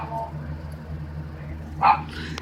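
A dog at a kennel gives a single sharp bark near the end, preceded by a low steady hum and faint background noise, close and fairly loud.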